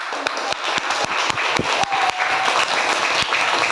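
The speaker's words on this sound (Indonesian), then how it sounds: "Tepuk tangan." Applause from pupils in an Indonesian elementary school classroom, a dense patter of many small hands clapping steadily for a few seconds with sharp individual claps standing out close by.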